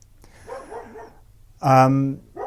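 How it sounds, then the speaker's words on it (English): A dog barks in the background, first a few softer yips and then one loud, sustained bark close by, with another bark starting at the end; no speech in between. "we've got a dog in the background here, it will go for a bit"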